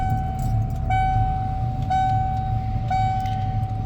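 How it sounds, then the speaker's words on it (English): A 1994 Ford F-150 XLT pickup with a 302 V8 idles after a cold start, its steady low rumble running under a loud electronic chime that repeats about once a second. "Let's go ahead and fire this up and you can"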